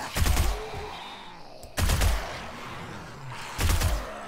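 Three bursts of rapid gunfire aimed at a zombie horde in 7 Days to Die, each a short loud volley separated by brief pauses, close and dry with no talking.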